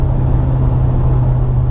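Dodge Challenger Scat Pack being driven gently, a steady low engine drone and road rumble filling the cabin, constant and fairly loud with no changes in pace.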